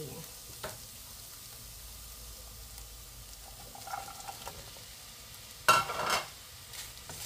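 Cabbage and carrots tossed into a pan with cooked chicken for miki bihon, a quiet steady sizzle with faint stirring, then a sharp burst of louder frying and clatter as the vegetables go in.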